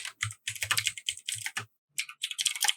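Someone types on a computer keyboard close to the microphone during an online call, in quick irregular bursts of key clicks broken by a short pause before typing resumes.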